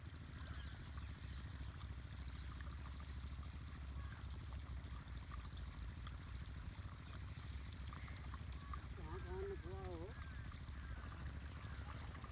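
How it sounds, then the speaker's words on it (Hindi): Irrigation water flowing from a pond into a field, a faint, steady rush and trickle that runs throughout, with a brief voice-like warble partway through. "अब देखिए ये पानी की डिलीवरी हो रही है"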